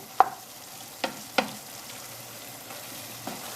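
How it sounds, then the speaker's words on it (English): Garlic fries in a pan for chilli con carne, a soft steady sizzle broken by a few sharp clinks and scrapes as it is stirred up close. "I'm just going to put that into the mix, give it a good stir through, and make sure it's cooked through"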